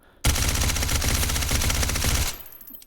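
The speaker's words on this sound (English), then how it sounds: "this is a flow-through suppressor, so all the gas that usually comes shooting out back here is shot forward instead" A rapid full-magazine burst from an AR rifle fitted with a HUXWRX flow-through suppressor, a dense, continuous string of muffled shots lasting about two seconds, then silence.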